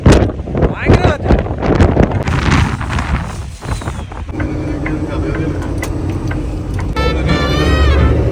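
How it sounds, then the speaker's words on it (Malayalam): Strong wind gusts at a truck stop in Texas, buffeting the microphone with a loud roar. A voice speaks over the start, and the wind goes on alone as a steady rush. "ഭയങ്കര കാറ്റ്."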